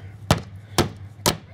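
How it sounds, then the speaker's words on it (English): Three sharp hammer blows knock protruding nails over in a garage renovation, evenly spaced about half a second apart, loud and close with no talking. "But I'm just gonna take a hammer"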